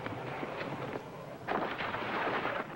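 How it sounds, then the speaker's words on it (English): Dull, muffled booms of bombardment rumble in a few distant bursts, a vintage radio drama sound effect with no voices over it. "Cleolanta, thinking only about her own people, bombarded Bezitta, hoping to spin it out of the way of Ophiuchus."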